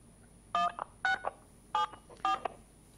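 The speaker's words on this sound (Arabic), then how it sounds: "هاي جاي تدق على أزرار التليفون." Telephone keypad buttons pressed during a call-in show, giving four short, clean DTMF tones spaced about half a second apart, each followed by a faint click, over a quiet hiss.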